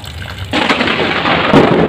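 A loud, near burst of thunder rumbles and crackles over a steady rain-like hiss, swelling for a couple of seconds with no voices.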